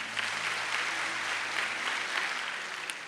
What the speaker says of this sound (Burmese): လက်ခုပ်တီးပြီးတော့ကြိုးဆိုပါအောင်